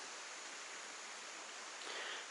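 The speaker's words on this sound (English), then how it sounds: "The creek right there." A creek flows beside a campsite along a foothills hiking trail, a faint, steady rushing wash that holds constant with no voices.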